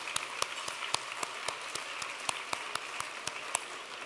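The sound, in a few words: audience applause for donors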